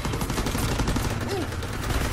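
Machine-gun fire in a zombie shooter game comes as rapid bursts of dense shots, with game noise and effects layered throughout.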